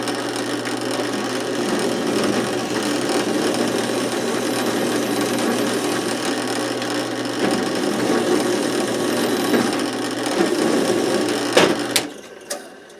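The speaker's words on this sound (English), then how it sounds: "let's just fire in a couple of countersinks on here and away we go" Countersink bit drilling holes in metal coat hooks, a steady whirring grind with a low motor hum running for most of the clip, ending in a few brief clunks.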